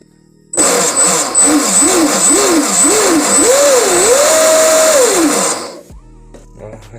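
Leopard Hobby motor driven by a 120A Seaking ESC in an RC boat, a loud steady electric whine that swoops up and down in pitch several times, then holds high before cutting off, with faint sounds afterward.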